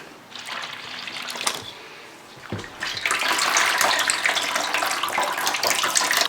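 Apple cranberry juice strains through cheesecloth in a strainer, a steady close pouring and trickling of liquid that briefly eases, then returns fuller and continues without talk.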